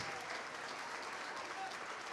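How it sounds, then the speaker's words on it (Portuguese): A church congregation applauds together during a lively service, a dense, steady wash of clapping that fills the room without a break. "Vamos aplaudir, igreja"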